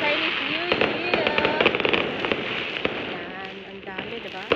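Chinese New Year firecrackers going off in dense, continuous crackling barrages outdoors, loud and close, with voices talking over the din.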